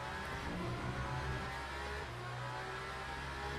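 A Le Mans Ultimate racing simulator plays a steady, loud Aston Martin race car engine that drones and revs continuously with no pause or speech.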